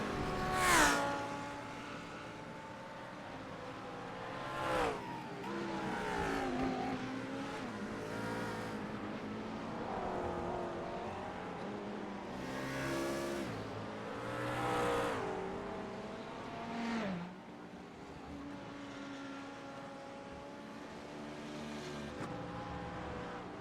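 Engines of GT3 race cars lapping the Zandvoort Grand Prix circuit in a sim racing game, with steady layered engine drone, rising and falling revs through gear changes and several cars passing, loud and continuous throughout.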